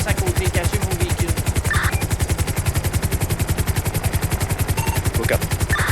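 A video game helicopter sets down with loud, rapid rotor thumps pounding in a steady fast rhythm throughout, close and dominant, while brief muffled game noises flicker in the background.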